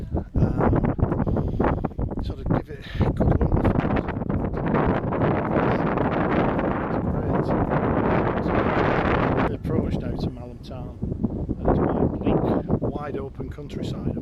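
Strong wind buffets the microphone in open hill countryside near Malham, a loud continuous roar with gusty surges that ease toward the end.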